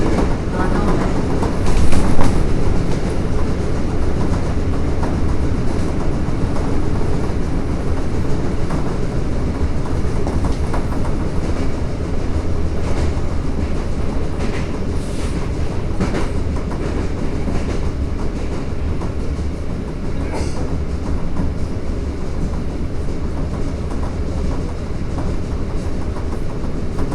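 A Toei Asakusa Line 5300 series subway train running between Sengakuji and Nishi-Magome: a loud, steady interior rumble with rhythmic wheel clatter over rail joints and occasional squeals, heard continuously from inside the car.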